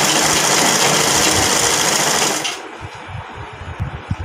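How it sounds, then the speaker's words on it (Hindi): Sewing machine stitching along the edge of a garment piece, a fast loud continuous whir that stops partway, followed by quieter handling clicks and knocks. "ये लुप्पी के दूसरी तरफ भी हमने किनारी पे सिलाई लगा लेनी है पूरी लुप्पी में।"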